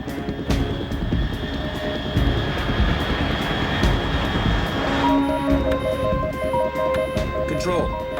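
An aircraft roars steadily in the Metal Gear Solid 3 video game, a loud, broad engine drone that persists throughout, with beeping electronic tones and voices entering in the second half.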